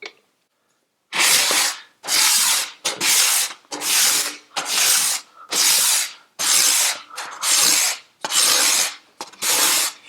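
A freshly sharpened cabinet scraper drawn across wood in about nine loud, close, raspy strokes, each roughly half a second long with brief gaps between, a steady back-and-forth rhythm.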